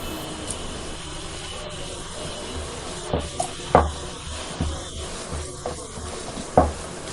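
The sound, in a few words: frying ginger garlic paste in pan for egg masala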